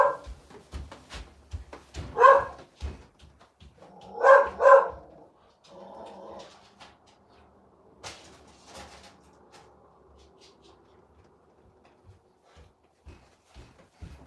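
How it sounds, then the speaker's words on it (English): A dog barks in short bursts, a few loud clustered barks early on, then quieter yelps and rustling household noises as it keeps up. "Can't concentrate with a barking dog."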